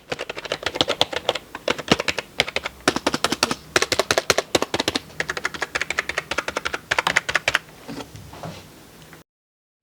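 Typing on a generic home computer keyboard: a fast run of close, crisp key clicks in uneven bursts with short pauses, ending abruptly in silence.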